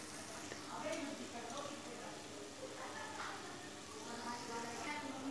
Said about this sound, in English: Now in this bed of masalas add only the marinated fish.